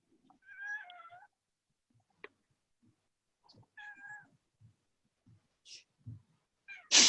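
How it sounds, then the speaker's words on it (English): A cat meows several times, close by, in short separate calls spread across a quiet room, with a few faint soft noises between them and no talking. "Just a cat."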